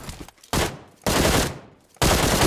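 Bursts of automatic gunfire from the mobile battle royale game PUBG Mobile, three loud rapid-fire volleys separated by brief pauses, close and dominant with no talking.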